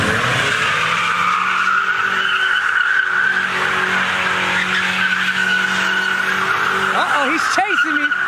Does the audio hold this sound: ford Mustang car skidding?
yes